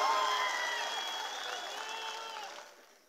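A large crowd at an OBC rally in Beed claps and murmurs for a speaker. Voices carry over the crowd sound, which fades out at the end.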